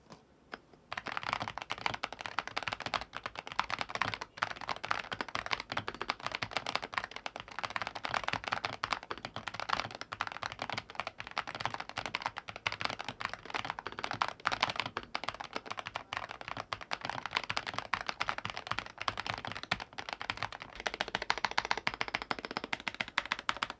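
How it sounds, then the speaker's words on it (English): Rapid, continuous typing on an EPOMAKER HE68 Lite magnetic keyboard with switches and keycaps installed, producing dense, even clacks close up for over twenty seconds with no talking. "now let's go and listen to the whole keyboard with the switches and the keycaps on."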